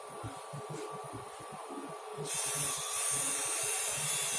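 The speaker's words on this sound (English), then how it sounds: "So you can see the motor is running quite smoothly." A small high-speed DC motor powered through an alligator clip runs with a thin, steady buzzing whine close by, rising sharply in pitch and loudness halfway through, with faint rhythmic rattling underneath.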